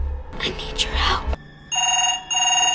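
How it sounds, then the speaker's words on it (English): A telephone rings in two electronic bursts indoors in a dramatized story, loud and clear, following a woman's speech. "A few moments later, Miss Devine calls back, but Carol answers the phone instead"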